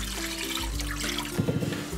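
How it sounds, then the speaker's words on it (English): Water pours continuously into a Ninja Foodi pot for corned beef, a steady close splashing trickle with a low hum underneath, turning burbly near the end. "We're adding 4 cups of water"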